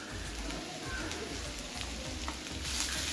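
Green chillies, turmeric, coriander-cumin powder and salt stirred into onion frying in a pan, a steady close sizzle with rhythmic scraping strokes of a spoon, fairly soft and unbroken.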